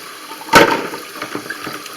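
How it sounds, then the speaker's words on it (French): Water rinses a scraped toilet part during a leak repair, one short close splash followed by faint trickling and drips, with no talk. "Et on rince."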